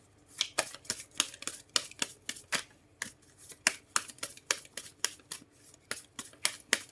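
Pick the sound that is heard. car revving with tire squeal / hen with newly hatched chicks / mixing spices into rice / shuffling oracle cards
shuffling oracle cards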